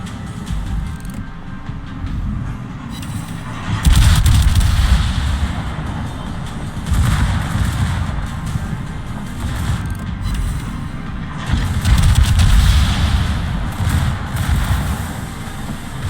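Ship guns firing in a naval video game, a continuous heavy rumble with repeated deep booming surges rising and falling over about sixteen seconds.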